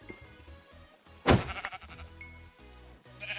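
A Minecraft sheep lets out a sudden loud bleat in the middle, with quieter game sounds before and after.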